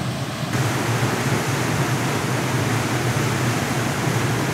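Steady, loud rushing water fills the whole stretch, a dense continuous roar of a stream at very high water level flowing fast nearby.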